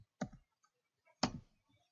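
Two distinct, crisp clicks about a second apart from a computer keyboard while a command is typed in AutoCAD 2020, with near silence between them.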